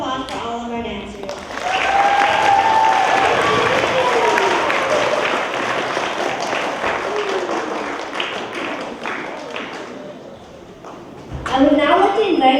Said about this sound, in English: Let's give a round of applause for all of our dancers.